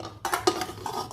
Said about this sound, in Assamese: এই কুকাৰটো খুলিবৰ কাৰণে মোৰ বৰ অসুবিধা হয়।